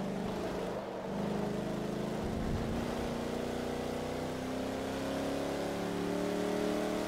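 A Plymouth Barracuda's engine revs in the racing game Forza Motorsport 3, a steady droning tone climbing gradually in pitch as the car accelerates, with music playing faintly underneath.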